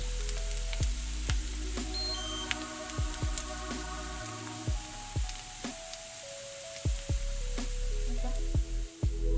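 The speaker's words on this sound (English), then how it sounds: "Fry until it's translucent. And our onion is ready." Onion frying in a pan until translucent, giving a steady loud sizzle throughout with occasional sharp clicks and small pops, close and uninterrupted.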